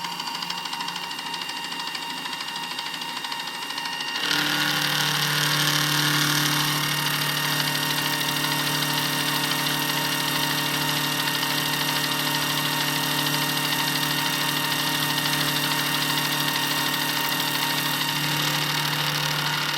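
An ACIERA F1 milling machine motor starts up and then runs steadily with a constant hum and a faint whirring, slightly rattly belt noise, with no talking.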